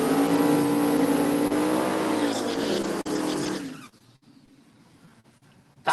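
A Camaro drag racing at a strip, a loud roaring run with rising engine tones that cuts off abruptly after about four seconds, leaving near silence.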